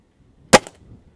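A single sharp snap from a Gamo Swarm Viper spring-powered airgun fired outdoors at an airgun expo, loud and close, with a brief rattling tail and then quiet.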